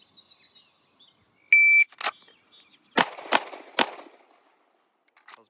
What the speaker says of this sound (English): Willard, get that timer ready.